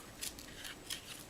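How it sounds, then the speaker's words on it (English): Scissors trim overhanging paper off a handmade stack card in a few quick, soft snips close by, with no talk. "If you have any hanging over the end, you will want to trim that off."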